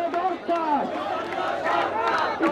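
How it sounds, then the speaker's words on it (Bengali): Party activists seated outside the Election Commission gate in Dhaka chant slogans at a protest rally demanding the commission's reorganisation, a loud crowd of voices rising and falling in rhythmic shouted phrases close by. "সেই গেটের সামনে কিন্তু বসে গিয়েছেন নেতাকর্মীরা এবং বিভিন্ন ধরনের স্লোগান তারা দিচ্ছেন"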